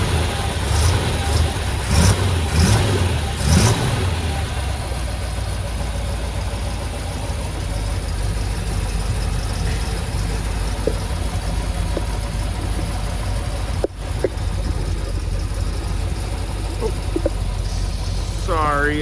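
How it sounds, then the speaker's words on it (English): A numbers-matching 300-horsepower 327 V8 engine in a 1964 Corvette C2 coupe idles steadily up close with a low, rumbling drone, a few brief revs near the start, and a faint voice in the background. "This is the numbers matching, 300 horsepower, 327 V8 engine."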